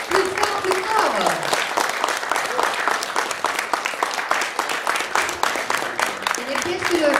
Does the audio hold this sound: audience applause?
yes